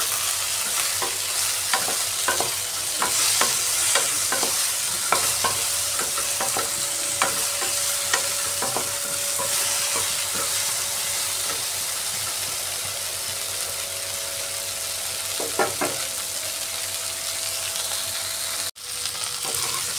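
Okra (lady's finger) fries in oil in a pan. It makes a steady, close sizzle throughout, with light stirring clicks at intervals and no talk.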